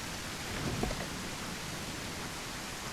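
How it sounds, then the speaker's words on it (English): Heavy rain falls in the survival video game SurrounDead, a faint, even hiss of downpour running steadily throughout with no voices. "It's raining cats and dogs."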